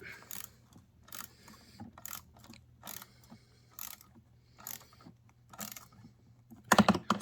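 Bolts being tightened by hand on a Predator 2000 inverter generator, with a steady run of crisp ratcheting clicks in short bursts, repeated at a regular pace up close, ending in a louder clatter.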